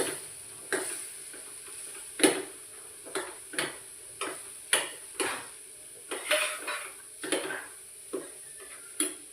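Potatoes stirred with a paste of roasted onion and coconut in a pan: a steady faint sizzle under sharp spoon scrapes and clinks against the metal pot, about a dozen strokes in irregular rhythm, close, with no talking.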